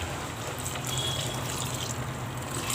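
Water pours into beef curry in a pan, a continuous soft splashing trickle that holds steady for a few seconds, with no talking.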